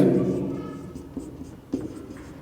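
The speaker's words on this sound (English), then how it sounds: "write this fraction 3 times" Pen writing on paper while solving a math problem, soft scratchy strokes with a few sharper taps, close but quiet, with a voice talking at the start.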